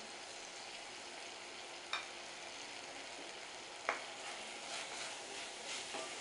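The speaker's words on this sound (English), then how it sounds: "Saute this till the masala separates from the oil." Powder masala sautéing in oil for keema: a quiet, steady sizzle runs throughout, broken by two sharp spatula taps against the pan about two seconds apart.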